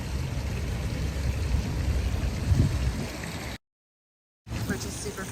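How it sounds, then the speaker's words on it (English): Fountain water splashing steadily on a walk outdoors in Orlando, a continuous broadband wash of water with some background noise, cut by a brief silent gap before resuming. "Fountain water right here."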